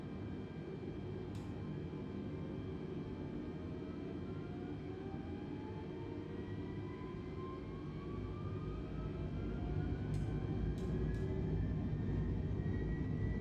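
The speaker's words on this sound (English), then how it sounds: "Takeoff thrust set." Airliner engines spooling to takeoff thrust in Microsoft Flight Simulator 2020, a steady broad roar with a rising whine that climbs gradually, alone and continuous.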